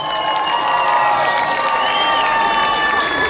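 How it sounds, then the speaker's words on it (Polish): A crowd at an outdoor craft fair concert greets a rapper with loud, continuous applause and cheering, dense clapping and shouts filling the air. "przywitajcie głośno oklaskami"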